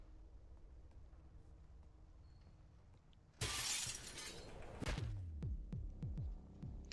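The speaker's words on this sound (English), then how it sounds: "Some panes of glass will break when you walk over them." Glass panes shatter underfoot in the video game Receiver 2: a sudden loud crash of breaking glass, followed by a second burst and scattered tinkling shards settling over steady background ambience.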